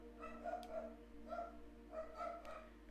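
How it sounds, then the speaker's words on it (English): A dog barks in short bursts, fairly faint and somewhat distant, over steady background noise from a game stream. "There goes Milo, barking at something"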